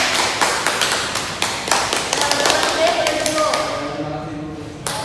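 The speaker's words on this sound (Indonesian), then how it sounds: "Tepuk tangan dulu buat Mas Ibrahim" Classroom clapping for a student, Mas Ibrahim, during a maths lesson: a run of sharp, separate claps, fairly close and loud, with voices talking beneath them.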